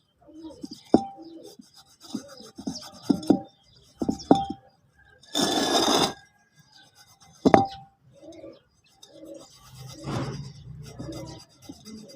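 Almond mixture with a green ingredient being rubbed and ground by hand as feed for pigeons, heard up close as intermittent scraping, rubbing and small clinks, with one longer, louder grinding burst midway.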